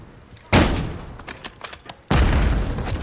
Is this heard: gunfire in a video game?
yes